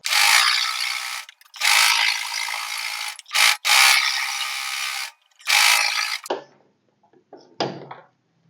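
A loud, close sewing machine top-stitches the waist of a lined blouse in several fast, whirring runs with short pauses, ending in softer clicks and rattles as it stops.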